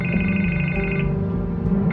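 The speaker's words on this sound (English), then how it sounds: "I can't get the phone to stop ringing." A telephone rings in Batman: The Telltale Series, a steady electronic tone sounding loud and close for the whole two seconds with no talking.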